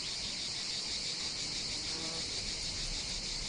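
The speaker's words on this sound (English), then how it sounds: "A stillness enriched by the song of cicadas." Cicadas sing in the Provence countryside, a dense, steady high-pitched shimmering drone that holds unbroken and fairly faint throughout, with no voices.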